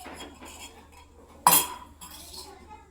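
A spoon clinks against dishes while an omelette is made in a home kitchen: soft metallic taps, then one sharp, bright clink, with quiet voices in the background.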